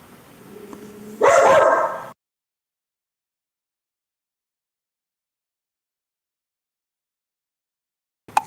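Dogs give a short, loud burst of barking and yipping up close, eager to go outside, after which there is long silence and a brief sharp sound at the end.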